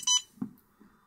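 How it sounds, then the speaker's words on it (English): An iSDT SC-608 smart balance charger powers up with two quick, bright electronic beeps close by, followed by a faint soft whir. "A couple of beeps, the fan briefly spun up, but that's now stopped."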